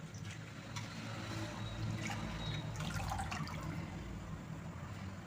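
Water splashes and trickles steadily as white saranai greens are rinsed and squeezed, a soft continuous wet sloshing with occasional drips.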